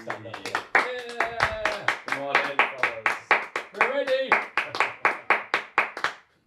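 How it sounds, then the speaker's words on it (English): A studio audience at a mountain-bike racing show claps to welcome guests, giving a few seconds of distinct, rhythmic hand claps with a voice talking over them before the clapping stops. "let's get up and give them a warm round of applause and welcome to the show"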